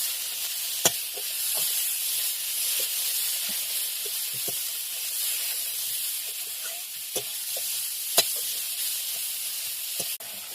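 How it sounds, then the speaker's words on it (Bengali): Ginger, dry chillies, cumin and turmeric sautéing in oil, a continuous hissing sizzle held steady close by, with a few sharp clicks of a utensil against the pan and no talk. "এবার একটু কষাবো।"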